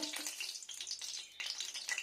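White cooking oil hitting a hot pan for a moringa flower dish, giving a steady, close hissing sizzle with bright crackle that swells and dips over about two seconds, with no talking.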